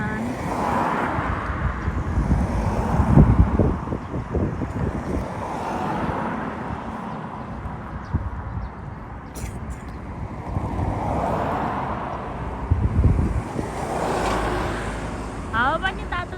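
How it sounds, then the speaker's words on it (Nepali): Hot wind gusts buffet the microphone in rising and falling rumbles, while people talk throughout. "हावा पनि तातो चल्न थालिसकेको छ है"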